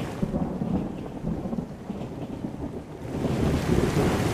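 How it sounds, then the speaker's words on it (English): Thunderstorm background sound from the Noisli ambient sound app: continuous heavy rain and low rolling rumble, steady and moderately loud, swelling slightly toward the end, with no voices. "Suppose the same time if you want to hear the thunderstorm."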